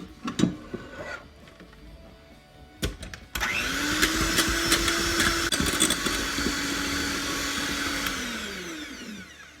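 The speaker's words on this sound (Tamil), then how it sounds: "250 ml இந்த ஹெவி க்ரீமை நான் இப்போ நல்லா ஃப்ளஃபி ஆக்குறேன்" An electric hand mixer whips 250 ml of heavy cream, starting with a few clattering knocks, then switching on to a loud, steady whine that holds for several seconds and eases slightly near the end.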